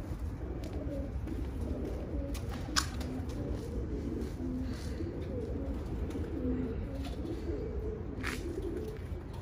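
Pigeons coo in soft, repeated low calls amid a steady background murmur, with occasional brief chirps and rustles breaking through; no talking.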